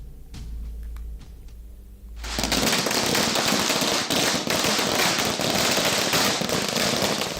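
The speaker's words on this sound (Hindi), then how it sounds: "भोजशाला के सामने आतिशबाजी करते ये लोग हिंदू संगठन के हैं।" A few sharp pops, then a sudden dense barrage of crackling firecracker bursts that goes on loudly and continuously, with fireworks booming in the mix, set off outdoors in front of the Bhojshala in Madhya Pradesh.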